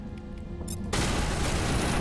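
Gunfire from a weapon in the video game Mass Effect erupts suddenly after quiet in-game ambience and continues as a dense, loud, sustained burst of shots.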